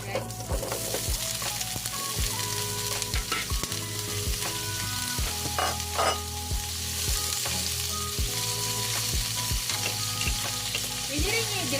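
Potato pieces frying in a pan of hot oil for beef caldereta give a steady, close sizzle throughout, with occasional clatter and scraping from stirring. No one speaks.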